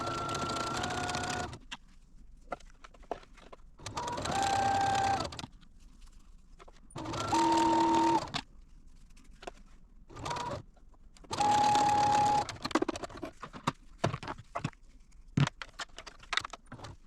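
Sewing machine stitching pieced quilt block rows for a beginner sampler quilt, running in four steady bursts of several seconds each, separated by quiet pauses with small handling clicks.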